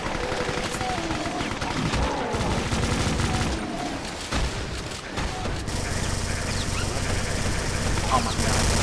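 A Chaingunner enemy in Brutal Doom blasts away with its chaingun: continuous rapid automatic fire with booming impacts, loud and dense throughout, while a man briefly exclaims over the shooting.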